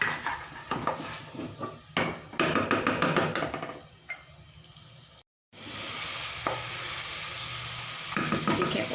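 Masala spices fry in hot oil for a halwa puri chana curry, with sizzling and clattering as a spoon scrapes and stirs the pan in bursts, broken by a brief silent gap.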